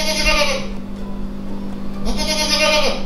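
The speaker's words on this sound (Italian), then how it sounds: "il verso che hai chiesto, capra." Recorded goat bleat played from a Jurassic World toy egg, two loud wavering bleats close up, the second starting after a brief pause, with a steady electronic hum underneath.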